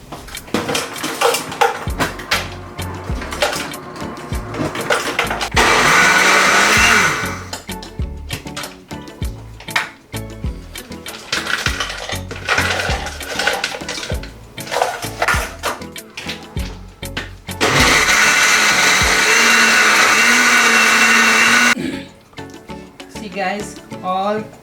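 A blender whirs loudly as it crushes ice with strawberries for a smoothie, running in two sustained bursts of several seconds each, with clattering dishes and utensils between them.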